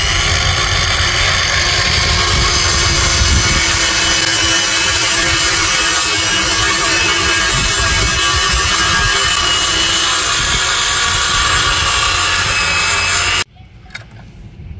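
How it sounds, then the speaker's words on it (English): A 6.5 inch battery circular saw cuts black walnut boards down to size, a loud, continuous rasping cut close by for about thirteen seconds before cutting off sharply into quiet. "About to cut this wood down to size. Yeah. Alright. Got my little circular saw here."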